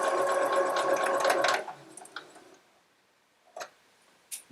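A sewing machine stitches through quilt fabric in a fast, even mechanical whir for about a second and a half, then stops, followed by a few faint clicks and taps nearby.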